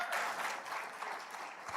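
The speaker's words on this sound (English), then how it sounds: "A round of applause for ma'am." Brief, lively applause from a conference audience at The Hindu Huddle as a volunteer from the crowd is welcomed on stage, dense clapping that holds steady for under two seconds.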